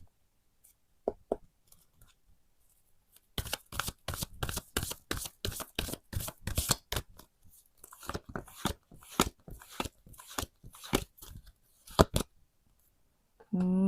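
Oracle cards being shuffled up close, a fast run of crisp riffling flicks with short pauses between bursts, preceded by a few scattered taps and light handling noise.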